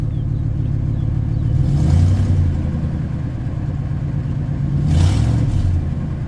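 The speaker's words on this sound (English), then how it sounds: "it has a Flowmaster exhaust on it" A 1997 Ford F250 pickup idles with a deep, rumbling, leaky-sounding Flowmaster exhaust and rises twice in short revs a few seconds apart, close and loud.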